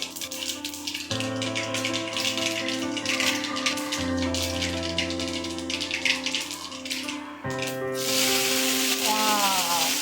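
Mustard seeds and urad dal sizzle in hot oil with a close, steady crackle beneath background music, swelling into a brighter, hissier burst near the end.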